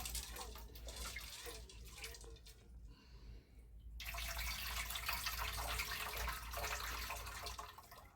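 Tamarind water pours steadily in a continuous broadband rush, pausing briefly before resuming more strongly, with no voices.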